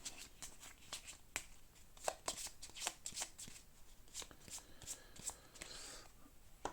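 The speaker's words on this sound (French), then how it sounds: "Donc, je vais piocher une carte rouge." Cards are handled and drawn during a tabletop Way of the Samurai card game, giving a series of quick, crisp papery snaps and flicks at close range in an irregular rhythm.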